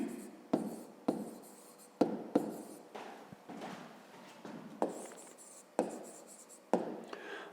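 Pen strokes scratch across paper as a sum is written out by hand for a fifth-grade maths exercise, with soft rubbing strokes broken by sharp taps at irregular intervals, close and fairly quiet.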